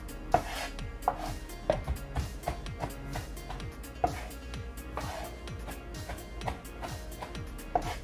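A knife chops and minces herbs on a cutting board, producing a steady run of light, crisp taps in an uneven rhythm with a few sharper knocks, close up and heard alone.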